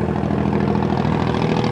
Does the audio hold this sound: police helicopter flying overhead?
yes